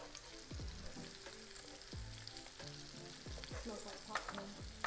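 Quartered red potatoes fry and crisp in a pan with pepper and butter, sizzling steadily up close while a utensil stirs and scrapes them in repeated clattering strokes.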